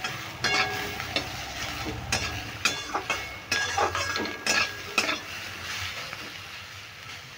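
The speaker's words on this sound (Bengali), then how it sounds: "এবার নুন আর হলুদটা দিয়েও আমি ভালো করে নেড়ে" Pointed gourd mash with salt and turmeric stirred in a pan, a steady close sizzle broken by repeated scraping and clinking strokes of a spoon against the metal, with no talking.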